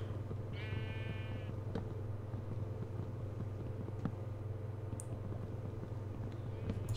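Sheep bleat in a survival video game, a single short wavering cry early on over a constant low background hum, followed by faint clicks and ambient game noise.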